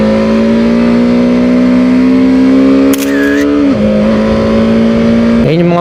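Engine of a BMW F450 GS middleweight adventure motorcycle revving loudly and close, holding a steady high drone that rises slightly, then dips with quick throttle changes and brief sharp crackles.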